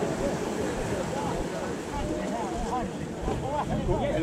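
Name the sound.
tour boat coming in at the Blue Grotto, Malta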